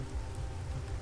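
Rain falling in the survival game The Planet Crafter, a soft, steady patter of drops on surfaces with no voices.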